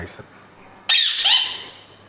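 A parrot gives a loud, harsh squawk, one burst followed by a second shorter call, close by at a home with a dog also present, against quiet background.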